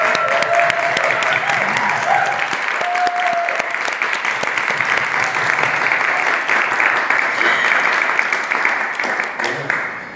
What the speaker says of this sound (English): I just want to say a round of applause for these students